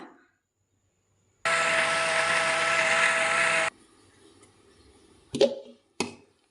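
A mixer grinder blending raw mango with cold water for a spiced buttermilk drink whirs loudly for about two seconds, then stops abruptly, followed by a couple of short clunks nearby.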